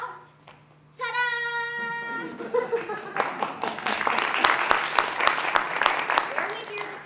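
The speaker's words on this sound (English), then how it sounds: "we hear the patrons applaud" An audience in a performance space breaks into applause after a flushing sound and a ringing tone, the clapping building quickly and continuing steadily, moderately close, as the performance plays on.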